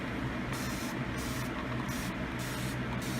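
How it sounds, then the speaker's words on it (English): Continuous hiss of a spray bottle misting a lace wig, pulsing in a steady rhythm of repeated bursts, close and fairly quiet. "I don't even have to hold it, and it sprays."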